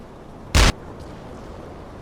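A U-boat deck gun in a submarine video game fires at a destroyer: one brief, heavy boom over a steady low background rumble.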